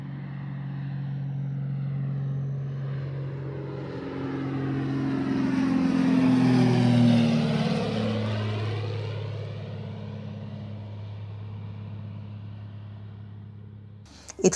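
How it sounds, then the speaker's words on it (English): A distant airplane's engine drone slowly swells louder as it flies low overhead, then the pitch drops and the sound fades as it moves away, with no other sounds. "there it was again, the drone of a plane in the distance,"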